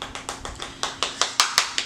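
A makeup brush loaded with pink blush is tapped against a hard surface about a dozen times in quick, even succession, each knock sharp and close, with no talking over it.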